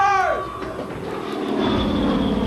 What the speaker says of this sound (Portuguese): os aviões torpedeiros voam em rasante pelo lago sudeste de Pearl Harbor para atacar a Alameda dos Couraçados